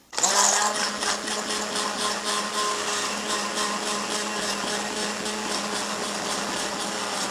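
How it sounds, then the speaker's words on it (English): An immersion blender purees a butternut squash mixture in a pot, a steady close whirring drone that starts abruptly and runs on evenly, with faint rattling of the blade against the pot and no talking. "I'm just gonna puree this mixture right here into this pot"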